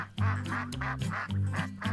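Ducks on a duck pond in spring quack loudly and close by in a rapid run of repeated nasal calls, with no other sound.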